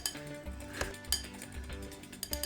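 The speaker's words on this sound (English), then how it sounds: "whisk it up" A whisk beats eggs in a bowl, giving a quick rhythmic series of light clinking and tapping strokes against the sides, close and moderately loud, with no talking.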